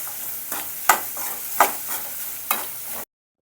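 Onion sautés in a pan with a little salt, a soft sizzle underlying four or five distinct scraping strokes of a spatula stirring it; close and wordless, ending in sudden silence.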